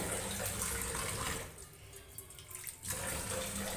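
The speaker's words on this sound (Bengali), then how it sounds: "আমি এটাতে জল অ্যাড করে দিলাম আর একটু জল দেব" Water pours from a tap into a cooking pot for a curry of eggs, potatoes and lentils, a steady broadband rush that thins out midway and then returns at full strength, with no voices.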